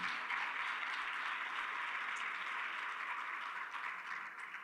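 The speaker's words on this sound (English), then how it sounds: "Let's give them another round of applause." A crowd applauds steadily throughout at a school district's State of the Schools event, a dense even wash of clapping heard from a slight distance with no voices.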